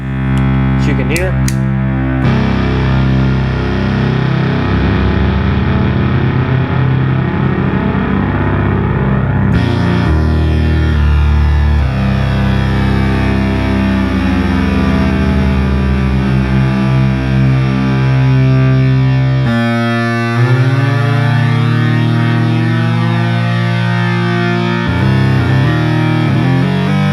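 A Minimoog analog synthesizer being restored holds a continuous, harmonically rich drone as its oscillator frequency knobs are swept. The pitch and tone change in several distinct steps over a long stretch, with no voices.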